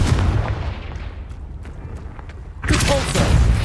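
A Confringo blasting spell in Hogwarts Legacy bursts with a loud, close boom, its rumble trailing off before a second heavy burst hits near the end.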